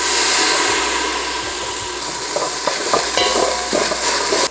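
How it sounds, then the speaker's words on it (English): Garlic and ginger sautéing in a pan for a vegan red dal, a loud continuous sizzle with stirring scrapes and clicks near the end, close up with no voices. "you just wanna saute this for another minute or so, stirring it so that the garlic and ginger doesn't burn"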